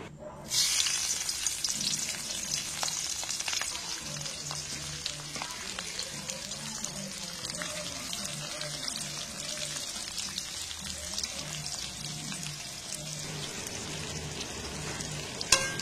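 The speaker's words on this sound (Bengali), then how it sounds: "এরপর ওই তেলের মধ্যেই আমি ক্যাপসিকাম কুচি দিয়ে দিচ্ছি।" Chopped capsicum frying in hot oil in a pan after chicken pieces were browned, a steady close sizzle with soft stirring scrapes throughout, no voices.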